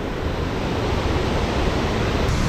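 Steady, dense rush of water at Mallali Falls, a broad unbroken roar that stays even and close throughout with no voices over it.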